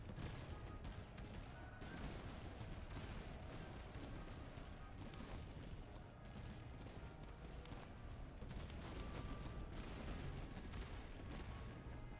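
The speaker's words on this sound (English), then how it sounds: "Volley fire! There we go, that's another unit running." Musket volley fire in the strategy video game Master of Command, faint dense crackling gunfire with repeated sharp shots layered over a constant battlefield rumble, distant and unbroken.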